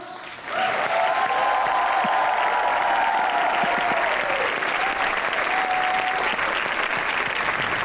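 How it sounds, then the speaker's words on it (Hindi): Loud studio audience applause greets a Pakistani cricketer arriving on a Hindi-Urdu comedy talk show, swelling quickly then holding as sustained, dense clapping. "आपकी भरपूर तालियों में पाकिस्तान के रिवर्स स्विंग के किंग वकार यूनुस"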